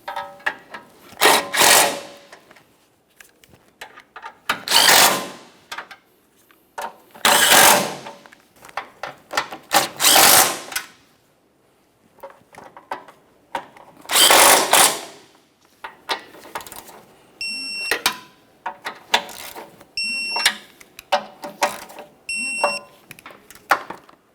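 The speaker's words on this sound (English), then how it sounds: "Let's snug them up and torque them to 25 foot-pounds." A power tool tightens the mounting bolts on a front bumper bracket of a 2012-2015 Honda Civic, giving several short whirring bursts with pauses between them. Later come quick rattling ratchet clicks and a few short high beeps, all close by.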